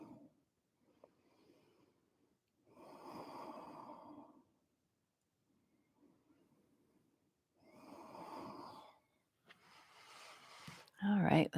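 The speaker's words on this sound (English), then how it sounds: "We'll take about 5 breaths here." Slow, deep breaths during a yoga session, each long inhale and exhale swelling and fading at an unhurried pace, close and fairly soft with quiet pauses between them.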